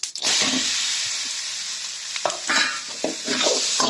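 Grated mango being stirred with chana dal and urad dal in a frying pan, a steady sizzling hiss with scraping spoon strokes against the pan, loud and close, no talk.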